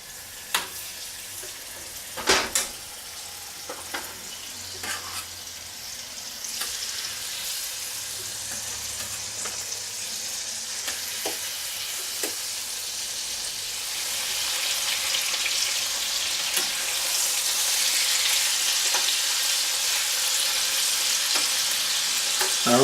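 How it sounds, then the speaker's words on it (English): Chicken pieces frying in hot oil in a non-stick pan, a steady sizzle that swells louder as more meat goes in, punctuated by sharp clinks and knocks of utensils against the pan, with no talking. "Once that oil starts getting a little hot, we'll start putting in the chicken."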